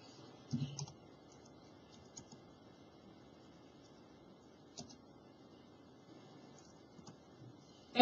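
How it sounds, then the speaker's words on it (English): Keystrokes on a computer keyboard as data is entered in a training session, a few scattered soft clicks and short bursts over a quiet background, with a louder tap at the very end. "So we're going to type that in."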